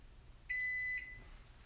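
Toshiba EM925ASA microwave oven giving a single clear electronic beep about half a second long, a steady pure tone in an otherwise quiet room with faint background hiss.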